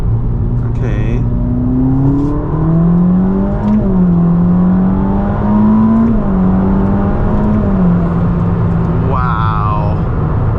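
A Ferrari SF90 hybrid accelerating at partial throttle, its engine note climbing and shifting through gears from inside the cabin, loud and continuous, with a brief spoken exclamation near the end.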